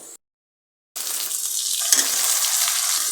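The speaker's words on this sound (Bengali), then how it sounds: "এখন আমি এক এক করে সব মশলাগুলো দিয়ে দেব" After a moment of silence, whole spices such as cinnamon and cardamom hit hot oil in a pan with a sudden, loud, continuous sizzle and crackle that holds steady.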